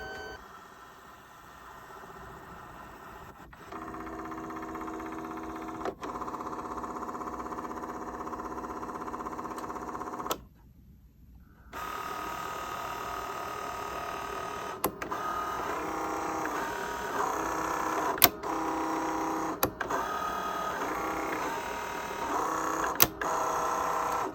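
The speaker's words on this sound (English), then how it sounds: "it's gonna move to the other end of the printer, and then we're gonna start seeing the cutting." A Leone Pixcut S1 sticker printer whirs and hums as it prints and cuts stickers, a steady mechanical drone with repeated short clicks and ticks, pausing briefly partway before the cutting motor resumes with a higher, varying buzz.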